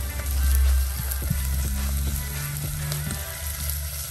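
Green chillies sauté in a pan with onion, giving a steady, close sizzle over a low background hum, with a few light clicks of stirring scattered through, no one speaking.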